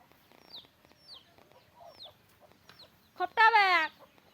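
Village chickens and chicks make a run of thin high chirps and soft clucks, then one loud, near, drawn-out hen call near the end.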